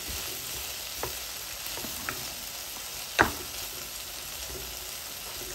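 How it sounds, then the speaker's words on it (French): Garlic and vegetables sauté in a pan for a lasagne, giving a steady, close sizzle with a few soft clicks and one sharp utensil knock against the pan. "je veux faire revenir tous mes légumes environ 5 minutes"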